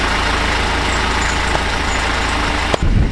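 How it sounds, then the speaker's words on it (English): A sailboat's engine on an Atlantic Ocean crossing, a loud, steady mechanical drone that holds throughout, with a single knock near the end. "if you turn the engine on"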